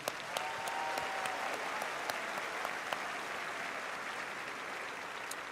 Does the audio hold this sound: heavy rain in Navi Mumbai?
no